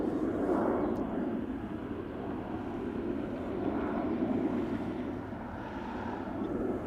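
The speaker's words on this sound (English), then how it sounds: "Now this is Swiss in the Star Alliance livery, outbound to Zurich, A320, flight 725." A Swiss Airbus A320 in Star Alliance livery departing Schiphol Airport for Zurich, a loud, steady broadband jet roar close by that swells slightly and holds for several seconds, with some wind noise and no speech.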